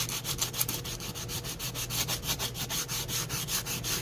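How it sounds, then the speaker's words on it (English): Sanding by hand on a wooden spring door hanger, giving rapid, even back-and-forth rasping strokes, close and continuous throughout with no talk. "do I want to sand and then use my black ink? Does it really matter if I sand?"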